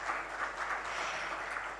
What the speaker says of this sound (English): Could we have a huge round of applause for our judges